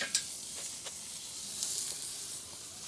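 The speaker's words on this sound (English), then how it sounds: "continue the searing process of this awesome Wagyu steak." Wagyu steak searing in a hot pan, a soft steady sizzle with a few faint pops and crackles, fairly quiet and close, no talking.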